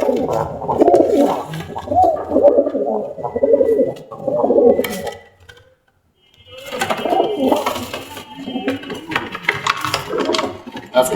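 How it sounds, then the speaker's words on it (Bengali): Many pigeons coo and scuffle inside a pigeon farm, their dense, busy calls and flapping steady over about five seconds, then a brief silence before the close, lively commotion starts again. "আজকে কবুতরের শুধু মারামারি"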